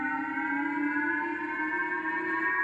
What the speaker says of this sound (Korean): 잠시 후 일본 오키나와 현해에 사이렌이 울리고